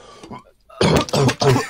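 A man coughs up an AirPod: three harsh, broadband coughing bursts in quick succession, close and loud, after a brief quieter stretch.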